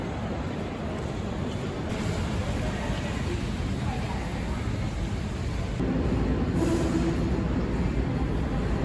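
Lisbon metro train riding from the airport, a steady loud rumble of wheels on track with rising rattle and a faint squeal near the end.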